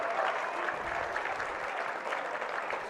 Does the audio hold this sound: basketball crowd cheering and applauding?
yes